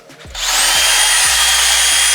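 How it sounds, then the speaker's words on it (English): A power drill fitted with a pilot bit spins up and runs at a steady, loud, high whine, drilling a pilot hole during truck work with a lift kit and suspension install, with faint low thumps underneath. "we're gonna go ahead and put a pilot bit in that."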